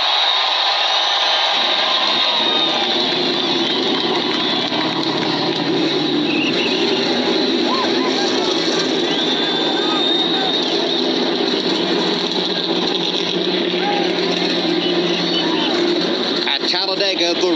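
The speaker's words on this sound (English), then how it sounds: "gentlemen, start your engines." At Talladega, 43 NASCAR stock cars fire up on pit road, a dense continuous engine roar that swells in from the start and holds loud throughout, layered with crowd noise and talk.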